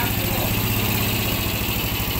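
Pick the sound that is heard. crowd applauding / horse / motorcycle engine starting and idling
motorcycle engine starting and idling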